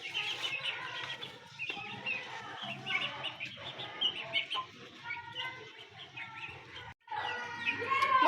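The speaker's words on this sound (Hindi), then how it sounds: "देखिए हमारे चूजे कितने प्यारे लग रहे हैं" Baby chicks on a small farm, desi and broiler chicks kept with ducklings, peep and chirp continuously in a dense, busy chorus close by, with a brief pause near the end.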